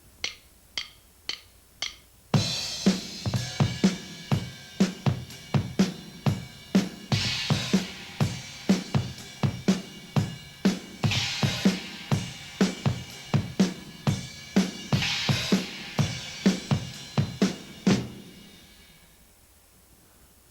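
Rock drum beat with steady ride cymbal pattern, accented China cymbal crashes and an opening hi-hat, played loud and close after a few count-in clicks, ending in a decaying cymbal wash.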